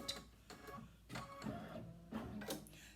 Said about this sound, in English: the machine stitches, you place your fabric, flip it, stitch in place